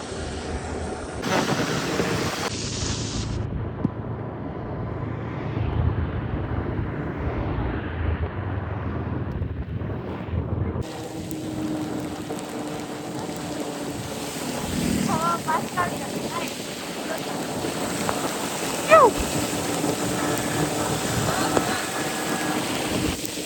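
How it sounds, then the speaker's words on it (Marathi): Rain and wind outdoors during a family outing with cousins, a steady broadband wash of rainfall and gusting wind buffeting the microphone throughout, with faint voices mixed underneath. "पाऊस कसा आहे इकडं."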